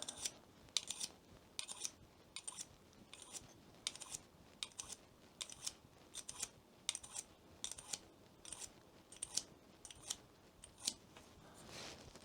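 Knife blade drawn through a Lansky Tactical BladeMedic sharpener, giving a steady run of short, bright scraping strokes at a quick, even rhythm, close and fairly quiet, with no talking.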